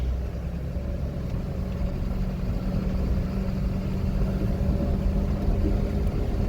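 A manual car's engine pulls steadily while driving in third gear, a continuous low rumble holding an even drone with no speech.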